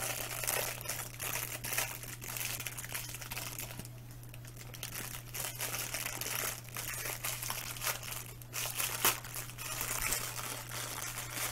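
Christmas wrapping paper being crumpled and torn while gifts are opened, a continuous crinkling rustle with sharp crackles, close by over a low steady hum.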